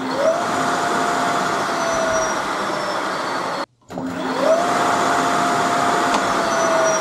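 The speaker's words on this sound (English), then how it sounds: "as I rev the bike and it tries to jump out" A custom electric bike motor revs twice, a loud steady whine that climbs quickly in pitch each time, separated by a brief moment of near silence, with no talk.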